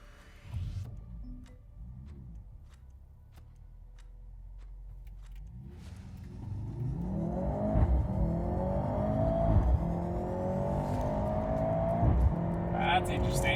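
A Mercedes C43 AMG and an Infiniti Q50 RedSport launch in a drag race without launch control, quiet idle giving way to loud, surging acceleration and engine roar building over the second half, with people talking early on.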